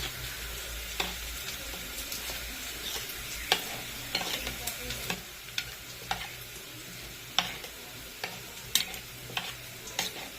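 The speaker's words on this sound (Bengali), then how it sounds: "তারপর তো পেঁয়াজগুলো ভাজা হচ্ছে" Onions fry in a pan with a steady soft sizzle, broken by frequent light clicks and scrapes from stirring at an uneven pace, close and fairly quiet.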